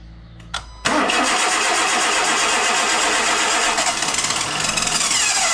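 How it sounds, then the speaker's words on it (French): A Renault Megane 2 with a 1.6 16v engine cranks briefly, then catches and settles into a loud, steady idle that runs on for several seconds with no one talking. "Donc, tu embrayes bien et tu peux tenter le démarrage."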